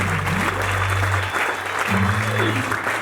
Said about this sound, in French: Est-ce que tu peux acclamer très fort pour cette vie?